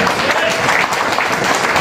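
An audience at a stemcell nutrition therapy talk breaks into a dense, steady round of applause that stays loud and even for the whole stretch, with crowd voices mixed in.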